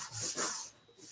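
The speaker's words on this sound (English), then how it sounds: "when I'm doing my sanding over here" A brief rasping scrub of sandpaper rubbing a metal tank, two quick strokes followed by a lighter, fainter pass, close by.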